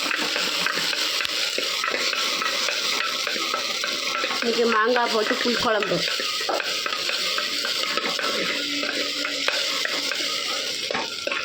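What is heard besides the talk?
tomatoes sautéing and being stirred in pan for mango tamarind curry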